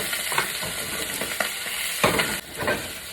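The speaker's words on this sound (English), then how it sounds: "Give it a stir." Garlic and scallions sizzle in a very hot pan for kung pao chicken, with a steady frying hiss and a few scraping stirs, close and fairly loud, no talking.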